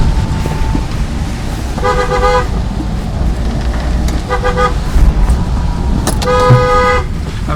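A car horn honks in three separate bursts, the last longest and loudest, over a steady rumble of traffic and engine noise, from a Maruti 800 driving on a rainy mountain road.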